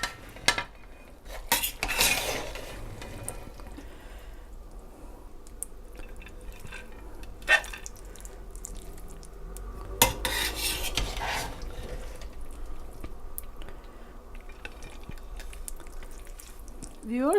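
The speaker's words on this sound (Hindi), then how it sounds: "अभी दम आ चुका है बिरयानी को, तो अभी इसको डिश आउट कर लेते हैं।" Sindhi biryani being served out of the cooking pot: intermittent scraping and clinks of a spoon against metal, with several sharper knocks, mostly quiet between sounds.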